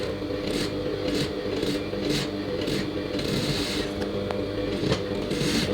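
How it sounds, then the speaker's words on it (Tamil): A sewing machine stitches a saree blouse in a steady, continuous mechanical whir with a regular ticking pulse, close and fairly loud, running alone throughout. "இப்போ வந்து இன்னொரு சைடு தைக்கிறோம்."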